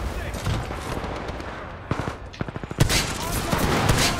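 Gunfire from a softball grenade launcher in Titanfall 2, a few spaced bursts and then a dense rapid volley of loud close shots.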